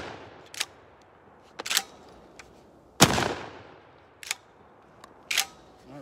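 A Dickinson Commando shotgun fires five sharp, loud reports at irregular intervals. The blasts are spaced about a second apart, and the middle shot is the strongest, with a longer decaying tail.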